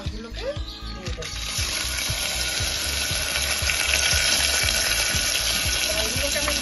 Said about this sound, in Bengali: এবারে আমি এর মধ্যে ডালগুলোকে দিয়ে দেবো।